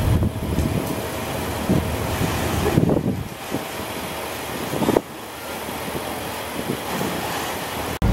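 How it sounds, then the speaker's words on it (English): A BMW X6 drives up with a steady engine and tyre rumble under wind noise, easing off around the midpoint and settling into a quieter hum before an abrupt cut. "Check this beautiful BMW X6 coming up."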